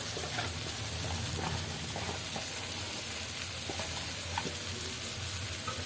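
Fish frying in hot oil with onion and bay leaf, a steady dense sizzle and crackle that holds evenly throughout, close and fairly loud with no talking.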